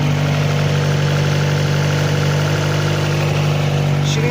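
Honda CRX engine running at its first start of the season with RC injectors, a loud, close, continuous idle drone with steady hum and vibration, no voices over it.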